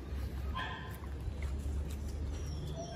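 A young tri merle Pit Monster dog yips and whimpers in short, high bursts at moderate distance. A steady low outdoor rumble runs underneath.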